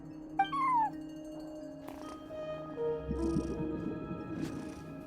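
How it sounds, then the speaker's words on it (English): A cat meows at a front desk in the video game Genshin Impact, one short clear meow early on, followed by quiet game ambience with faint chimes and soft thuds. "No one except for a cat watching over the front desk."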